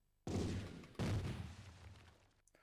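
Gunfire in an Amiga public domain shooting game: two abrupt, noisy blasts about a second apart, each decaying into a rough hiss, loud and alone.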